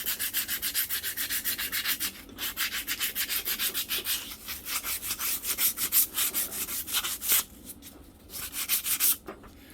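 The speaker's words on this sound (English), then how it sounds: "just take your emery cloth and scuff it up" Emery cloth scuffing a front-end brake part on a Harvey Spooner KD80, heard as close, brisk back-and-forth rubbing strokes in a steady rhythm with brief pauses and no speech.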